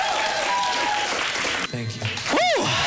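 A studio audience at a music television show applauds and cheers, loud clapping mixed with crowd noise and a presenter's voice, with a brief dip before whoops and a rising shout near the end.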